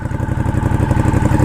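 A 2011 Ducati Diavel cruiser motorcycle idles up close with a loud, lumpy, rapid engine thump that pulses evenly throughout.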